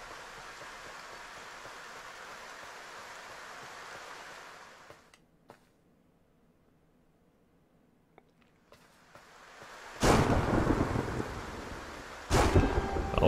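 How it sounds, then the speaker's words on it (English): Thunderstorm ambience in the video game Titan Souls: steady rain hiss, a quiet lull with faint taps, then two sharp, loud thunder cracks rumbling near the end. "Always makes it more ominous when the lightning storm is involved."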